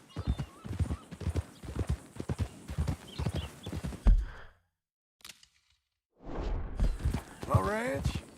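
Horse hooves clip-clop steadily in the Western game Red Dead Redemption 2, close and rhythmic beneath ongoing conversation between characters. A brief quiet gap falls before the talking and hoofbeats resume.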